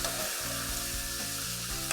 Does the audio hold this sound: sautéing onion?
yes